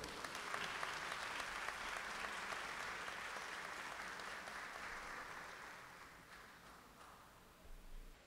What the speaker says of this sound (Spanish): Las recibimos con un fuerte aplauso.